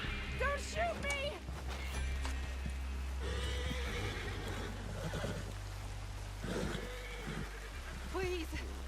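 In the video game Red Dead Redemption 2, a horse whinnies and snorts repeatedly up close while hooves clop along beneath, mixed with breathy vocal gasps and a steady outdoor background.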